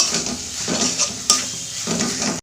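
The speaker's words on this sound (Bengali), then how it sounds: "দু মিনিট আর মশলাটা ভালো করে একটু কষাবো" Spiced masala sautéed in a pan for a taro and prawn dish: a dense, close sizzle with rhythmic stirring scrapes and a sharp clink of utensil against metal midway.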